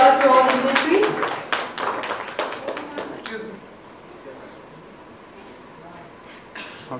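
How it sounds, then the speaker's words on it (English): Audience applause welcoming dignitaries onto the stage at a Japan tourism press conference, loud scattered clapping for the first few seconds that thins out and fades to a quiet room, with a few claps returning at the end. "Can you use your applause for all the dignitaries?"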